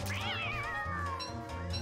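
A cartoonish catcoon from the game Don't Starve Together meows in a long, wavering cry over a steady electronic music background.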